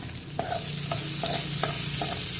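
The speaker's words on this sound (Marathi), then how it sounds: "परतून घेऊयात कांदा थोडासा गुलाबी रंगाचा होईपर्यंत" Chopped onion and whole green chillies sautéing in a pan for stuffed brinjal, a steady loud hiss broken by about five evenly spaced spatula scrapes, close up and without speech.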